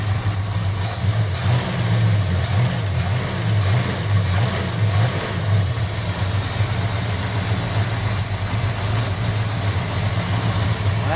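A 1979 Dodge Magnum engine runs on a standby carburetor, rumbling steadily nearby with a low, slightly wavering idle throughout and no speech.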